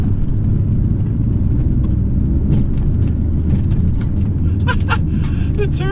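A Chrysler TC 16v with a turbo accelerates, its engine a steady loud rumble with rushing road noise and a few sharp clicks near the end.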